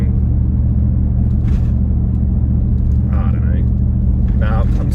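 A Nissan Y62 Patrol with a Manta cat-back exhaust cruises at about 60 km/h, giving a steady low drone and slight burble heard from inside the cabin, mixed with tyre and roof-rack noise.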